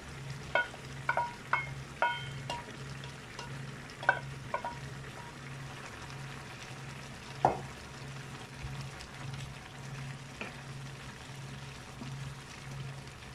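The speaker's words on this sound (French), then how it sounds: "maintenant j'ajoute les champignons" Mushrooms hit a hot frying pan for a filet mignon with white wine dish, giving a steady sizzle with a few sharp clicks and stirring knocks near the start and later, and no talk.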